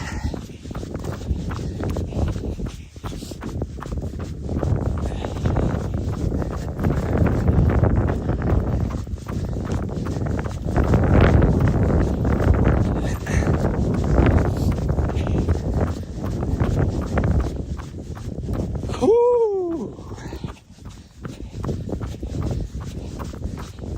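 Steady, gusty wind roars across an exposed open mountain top, buffeting the microphone throughout, with a brief rising whistle-like sound near the end.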